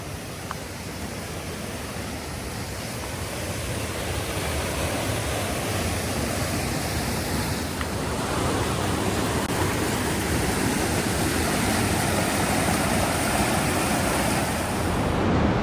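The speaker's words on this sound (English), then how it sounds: "Just arrived at the River Bovey." The River Bovey flows with a steady, full rushing roar that fills the whole stretch, loud and unbroken, swelling slightly in the second half with no voices.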